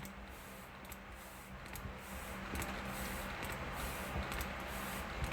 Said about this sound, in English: I'm spraying the water.